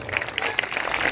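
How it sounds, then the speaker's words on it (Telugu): A church congregation claps together in a short burst of applause, dense overlapping hand claps with faint voices mixed in. "గట్టిగా చప్పట్లో."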